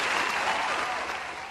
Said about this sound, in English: That deserves a cheer.